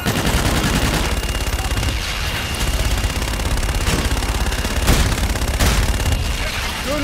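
Aircraft gun run in Call of Duty Infinite Warfare: loud, sustained rapid gunfire roars across the whole stretch, with a couple of heavier booming bursts near the end, and no talk over it.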